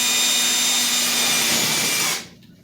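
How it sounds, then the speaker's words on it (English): Power drill boring holes in an aircraft wing for an Ultra Cruiser wing tip, a steady high-pitched whine running loud and close for about two seconds before cutting off. "I'm sure this is getting boring, just drilling holes"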